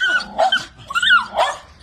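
A dog in poor kennel conditions gives a few close, sharp barks mixed with whining yips, loud and alone.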